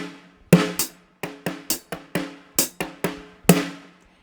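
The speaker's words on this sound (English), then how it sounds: "so the ghost note comes right after each quarter note with the hi-hat" A drum beat played on a kit with snare ghost notes and hi-hat: crisp strokes in a steady uneven pattern, close and clear, with no voices.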